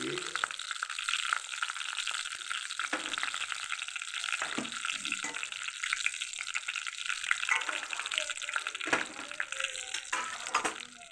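Curry leaves, cumin, chana dal and dried chilies crackle and spit steadily in hot oil in a pan, a loud continuous sizzle with sharp pops scattered through it.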